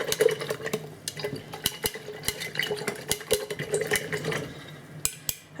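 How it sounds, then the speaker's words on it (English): A ginger bug mixture being stirred in a container, with a spoon knocking and scraping in quick irregular clinks, close and fairly clear, with a faint hum underneath and no talking. "Stir and activate."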